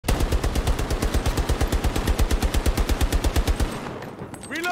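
Automatic gunfire rattles in Battlefield 2042, a long loud unbroken burst of rapid, evenly spaced shots that ends abruptly near the close, followed by a brief quieter tail.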